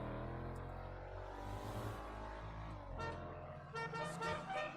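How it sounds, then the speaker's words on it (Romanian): A modded car horn honks repeatedly in the GTA 5 driving game, loud and close, with blaring sustained tones that shift pitch partway through, no talk. "Cred că i-am schimbat claxonul."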